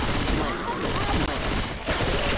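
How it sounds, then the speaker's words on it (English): Shotgun blasts from Left 4 Dead 2 fill a dense, loud stretch of game combat, booming shots and gunfire running almost continuously with no break. "it immediately switches back to my shotgun,"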